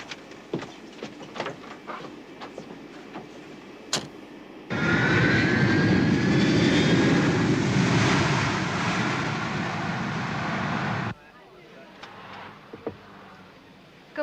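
Airplane engines roar loudly for about six seconds as the plane taxis to a stop, set between quieter stretches of faint cabin clicks and rustle.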